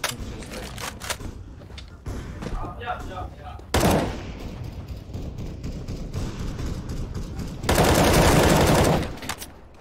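Gunfire in CS:GO, rapid automatic bursts and single shots in irregular runs, loud and close, with a dense sustained volley near the end and a player talking over parts of it.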